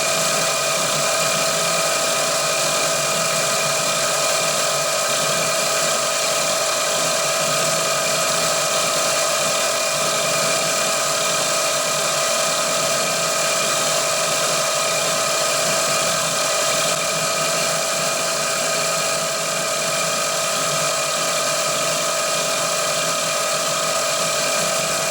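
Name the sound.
drill boring into engine part to 9.5 mm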